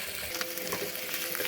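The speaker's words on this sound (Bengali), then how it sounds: "পেঁয়াজের সঙ্গে রসুনটা তেলে একটু নাড়াচাড়া করে নেব।" Crushed garlic and onion sizzle steadily in hot oil while being stirred in a pan, a close, continuous crackling hiss with no voices.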